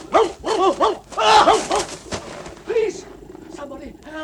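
In a BBC radio drama, a dog gives a quick run of close, loud barks and yelps. Voices break in between the barks, and a quieter bark follows later.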